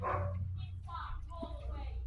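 Dogs bark and yip in the background while people shout over them, and a low steady hum runs underneath.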